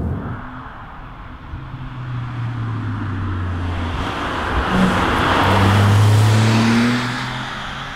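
A 2009 Porsche 997.2 Carrera 2 drives along, its engine droning steadily and swelling as it pulls harder toward the end, then easing off slightly, with no talk over it.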